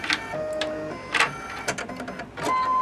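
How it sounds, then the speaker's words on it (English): A home embroidery machine stitching a placement line in purple thread for a mitten piece: close, steady mechanical whirring with rhythmic needle clatter and short bursts of higher-pitched rattling, no talking. "And now it's going to do my placement stitch so I know where the piece of the mitten is going to go."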